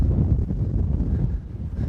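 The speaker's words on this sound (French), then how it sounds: "Il y a un vent, laisse tomber" Strong wind gusting across a golf course, a loud low rumbling buffet against the microphone that persists throughout with no talk.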